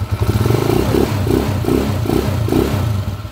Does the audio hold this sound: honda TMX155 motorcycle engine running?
yes